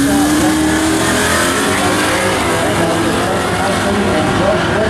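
Drag race cars in sportsman street-class racing roar steadily and loudly through the whole stretch, a continuous close engine blare with rising revs and no break.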